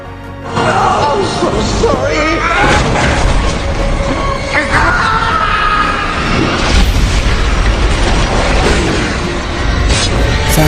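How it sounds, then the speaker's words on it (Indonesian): Film scene of a falling elevator causing an explosion in a cruise ship corridor, with a loud, sustained rumbling blast and crashing debris mixed with dramatic noise, persisting for around ten seconds. "Saking kencangnya lift terjatuh menyebabkan guncangan dan ledakan di lorong itu"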